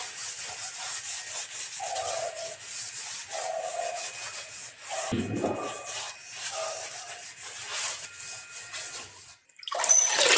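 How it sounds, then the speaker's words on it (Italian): A sponge rubs colour diluted 30% with water into the veins of a split stone surface, making a continuous close, soft wet scrubbing and swishing with brief pauses and a louder scrape near the end. "Sempre con spugna si passa alla tonalità di colore scelto andando a riempire tutte le venature."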